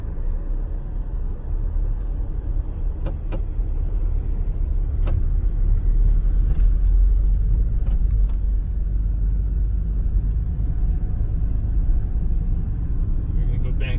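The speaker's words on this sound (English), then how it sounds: "So I turn the car around." A car making a slow turn to reverse direction on a road near Glimmerglass lake in Cooperstown, upstate New York, with a steady low engine and road rumble throughout and a few faint clicks along the way.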